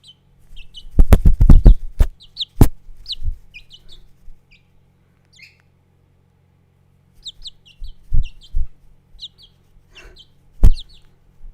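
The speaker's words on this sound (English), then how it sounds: "baby bird ASMR for the morning." Baby chicks in a backyard coop give high, thin cheeps in scattered short bursts, close and clear over near-silence, with a few loud thumps and handling knocks in between.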